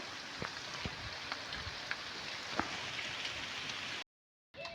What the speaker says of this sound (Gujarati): અત્યારે ફૂલ વરસાદ ચાલુ થઈ ગયો છે